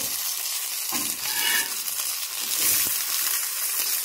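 Sankara red snapper wrapped in banana leaf frying in a pan over low-medium flame, a steady close sizzle with soft shifting and crackling as the parcel is moved.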